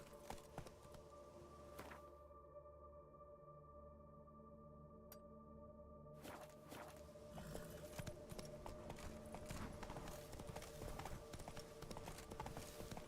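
Roach the horse gallops in Witcher 3, rhythmic hoofbeats over ambient game sound, dropping briefly to near silence before the clopping returns and continues steadily.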